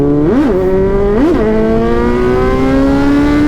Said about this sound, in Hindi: चलो यार खींचे थोड़ी सी बाइक को।